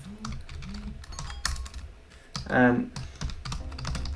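Keystrokes on a computer keyboard while HTML code for a table with an href link is typed, a quick irregular clatter of clicks running under a voice with brief pauses.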